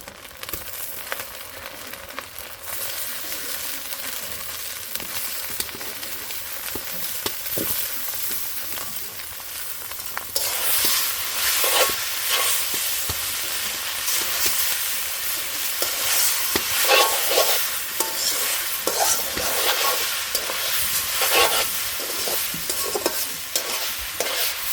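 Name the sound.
eggs and onions frying in a pan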